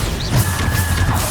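Bombarda blasting spell cast in Hogwarts Legacy, a short, loud, dense burst of explosive energy with a low rumbling thud and a faint rising tone over continuous combat noise.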